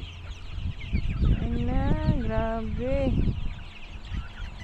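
Chickens on a small farm in Najran, Saudi Arabia, clucking and calling among themselves, one drawn-out crow-like call rising clearly in the middle while someone speaks over the flock.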